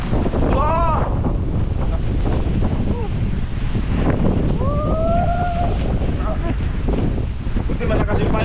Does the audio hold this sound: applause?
no